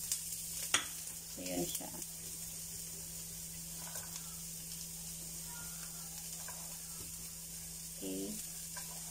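Onions frying in a pot for a creamy potato and carrot soup, a soft steady sizzle with a few spoon scrapes and stirring knocks; a steady low hum runs underneath and a brief spoken remark comes early.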